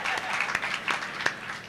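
Audience applause at a Hindi comic poetry gathering (hasya kavi sammelan) in Ratangarh, a steady wash of clapping from a crowd with a few sharper individual claps standing out.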